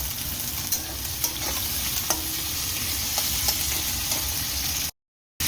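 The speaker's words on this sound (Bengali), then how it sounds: "সবজিগুলো ভাজছি লাল করে।" Vegetables fry in hot oil until browned, giving a steady close sizzle with occasional soft utensil clicks, before a brief cut to silence near the end.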